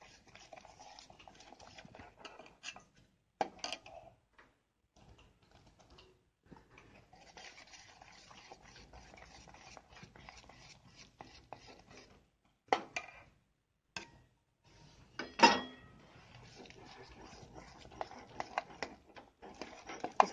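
Gulgule batter of flour being stirred in one direction in a bowl: quiet, soft scraping and knocking strokes in an irregular rhythm, with a few louder clacks against the bowl.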